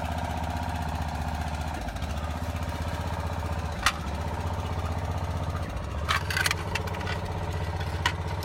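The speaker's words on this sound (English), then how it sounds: "What we want to do is crank our machine and see if we can jack this thing" Steady, close idle of an engine-driven foundation pier jacking machine at a settling masonry foundation, a droning rumble with a few sharp metallic clanks over it.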